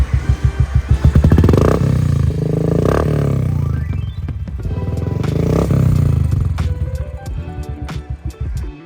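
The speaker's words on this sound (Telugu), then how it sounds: "ఈ బండికి ఎగ్జాస్ట్ జస్ట్ క్రాంక్ చేస్తే చాలండి స్టార్ట్ అయిపోతుంది" Royal Enfield motorcycle with an aftermarket exhaust cranks and fires up, settling into a loud, deep, rhythmic thumping idle with a few throttle blips, close by and alone.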